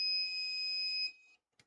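Alarm of a six-digit digital circuit clock kit: a steady, piercing electronic tone sounding continuously, then cutting off abruptly, followed by a brief faint click.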